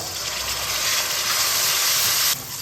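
Water poured into a pan of frying spice paste of ginger, garlic, green chilli, cumin, coriander and turmeric hisses loudly and evenly in a steady steam burst that cuts off abruptly near the end.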